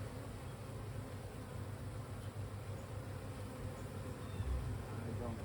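Honeybees swarm around an open hive during an inspection, their steady, close buzzing hum filling the air without a break.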